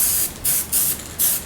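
Finish sprayed onto the body of a semi-hollow guitar kit build: three short, close bursts of airy spray hiss separated by brief pauses, with no voices.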